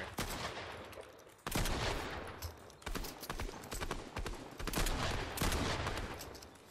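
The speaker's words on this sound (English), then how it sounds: "Let's see if I can't shoot out that railing there." Rapid gunfire cracks in Fortnite as a player shoots out a railing, repeated sharp bursts in clusters over a steady game soundscape, loud and close.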